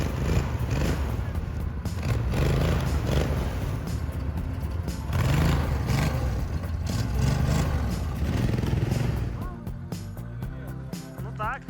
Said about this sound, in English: you can continue moving thanks to the power of the engine and proper snowmobiling skills.